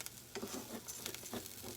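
Rice toasting in a hot pan gives a steady close sizzle with soft scraping stirs, quiet and alone with no talk.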